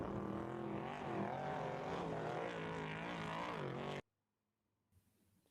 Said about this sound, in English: just the sound of the engines taking off from the line